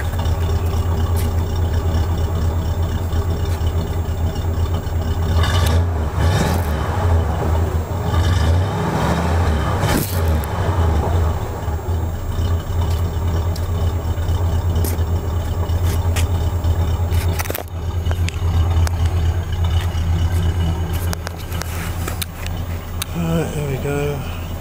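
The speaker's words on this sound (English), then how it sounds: "I'll just go and see if I can rev it up a little bit." A Bluesmobile car's engine runs with a steady low rumble and a few swells as it is revved, while a person talks over it throughout.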